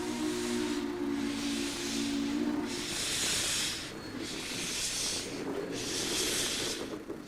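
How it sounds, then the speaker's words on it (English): Rhythmic bursts of hissing steam chuff in slow, regular beats, loud and near, as a heavy steam locomotive works to pull out of Portland's Union Station. "For a younger generation who had never seen a steam engine pull out of the station"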